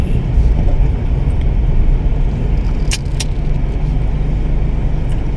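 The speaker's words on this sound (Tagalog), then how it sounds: "May kotse tayong nakasalubong." A car approaches and passes on a rural village road, heard from inside a moving vehicle as a loud continuous engine and road rumble with a couple of brief sharp clicks midway.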